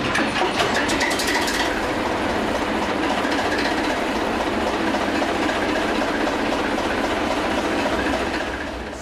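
A 600 horsepower Thumper diesel train engine runs with a steady, loud, rumbling roar and a faint rattling clatter, continuous throughout with no pauses.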